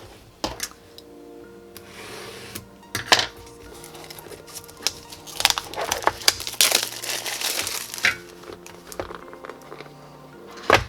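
Sheets of white paper from a subscription box being handled during an unboxing, giving crinkling and rustling bursts with a few soft taps and thumps, close and moderately loud with no talking.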